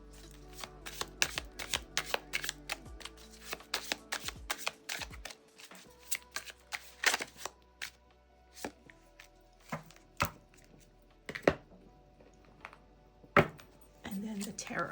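Tarot cards being shuffled by hand, a rapid series of sharp riffling snaps and soft slaps repeating close up throughout, with a low steady hum beneath and no talking.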